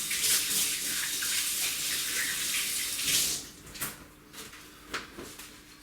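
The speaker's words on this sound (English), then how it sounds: "I'm just going to rinse off my hands and dry them." Kitchen tap running steadily as hands are rinsed, a loud continuous water rush for a few seconds, then cut off and followed by a few scattered knocks and splashes.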